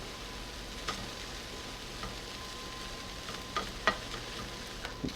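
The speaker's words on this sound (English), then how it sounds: "Fry the bacon for about 2 minutes, stirring from time to time." Steady low crackle and sizzle of bacon frying in a pan, with a few sharper pops and ticks scattered through, no voices.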